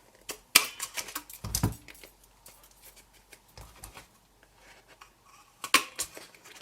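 A Crop-A-Dile hole punch snaps through a papercraft box made with Stampin' Up! card, giving a few sharp, separate clicks and crunches spread out with quiet gaps between them, fairly close and not loud.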